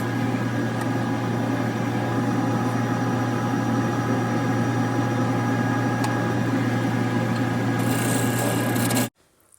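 A wood lathe spins a black walnut live-edge bowl at about 1200 RPM while a tool works the edge, giving a steady loud hum with rough cutting texture that stops abruptly near the end.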